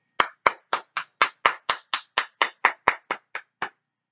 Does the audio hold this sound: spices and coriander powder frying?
no